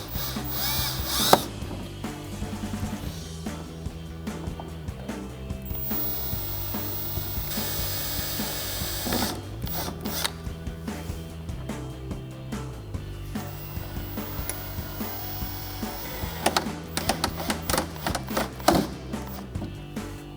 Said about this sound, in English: We're gonna start drilling and then it'll break apart and we can just slide that right out.